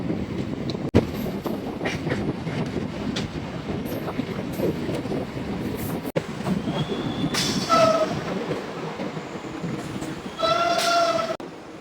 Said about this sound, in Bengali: আমাদের ট্রেন কিন্তু এসে পৌঁছেছে গলসি রেলওয়ে স্টেশনে